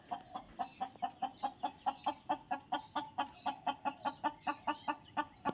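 Free-range village hens cluck steadily while jostling over a dark nesting spot to lay eggs, a close, rhythmic run of about twenty short clucks repeating roughly every quarter second.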